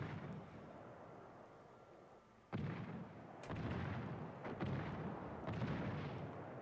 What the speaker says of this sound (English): Raiden getting into a point blank gunfight with Doc's Holland